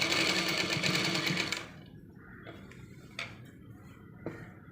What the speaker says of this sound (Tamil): தையல் அடித்து ஒரே கணத்துக்கு கட் பண்ணிக்கணும்